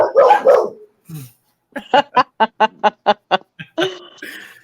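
After a short burst of voice, a run of about eight sharp, evenly spaced dog barks, loud and near, then a final yelp.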